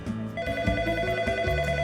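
A telephone rings on an outgoing call to a children's hospital imaging department, a steady electronic ringback tone heard faintly and continuously over a low background hum, with no talk.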